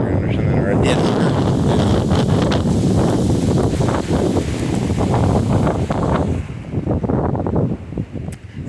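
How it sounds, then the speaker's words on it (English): Strong wind gusting steadily across an outdoor microphone, a loud, continuous roaring rush with buffeting and rustle that eases slightly near the end. "Very dramatic wind, I like the wind."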